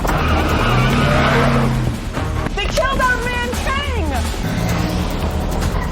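A car speeds away in a scene from an action film, with an engine roar and a sharp, wavering tire squeal in the middle, heard under a narrator's voice.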